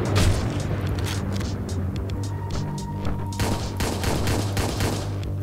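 Shotgun fire in the PC video game Hotline Miami 2: rapid, loud bursts of blasts over a constant pulsing music bed, repeated throughout several seconds without talk.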